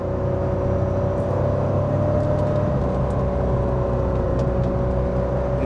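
A Porsche cruises at about 50 mph under part throttle with the transmission refusing to kick down, giving a steady loud engine drone and road whir that stays even throughout, with no voices.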